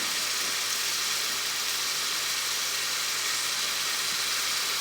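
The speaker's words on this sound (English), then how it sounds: "Love that sizzle." A steady, bright sizzling hiss of pork tenderloin searing in a hot Instant Pot, continuous and close, with no talking.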